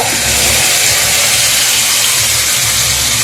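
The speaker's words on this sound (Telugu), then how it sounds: "మాంసం అయితే కొంచెం వాటర్ పోయాలి" A loud, continuous gush of water being poured into a pot of beef curry, steady and close, with no voices.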